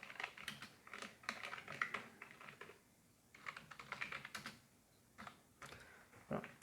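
Someone types code on a computer keyboard in quick, uneven bursts of light clicking with short pauses, quiet and close, with faint speech in places.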